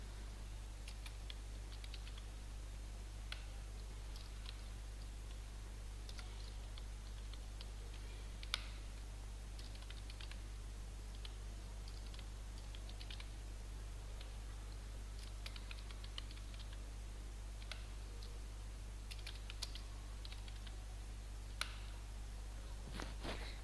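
Computer keyboard keys are pressed while a table is built in MS Word, giving faint, scattered clicks and taps over a steady low hum, with no talking.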